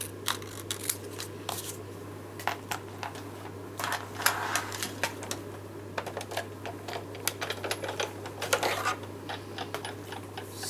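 Die-cutting machine cranking a small piece of cardstock through for card making, giving irregular close clicks and ratcheting taps over a steady low hum, with no talk.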